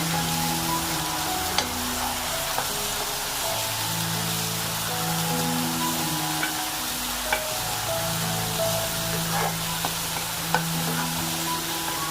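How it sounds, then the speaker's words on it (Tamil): Onion paste frying and being stirred in a pan for spinach thokku, a steady soft sizzle with scattered spatula clicks, continuous and moderately close, with no talking. "அப்புறம் அந்த ஆனியன் பேஸ்ட் போடுங்க. நல்லா ஃப்ரை பண்ணுங்க."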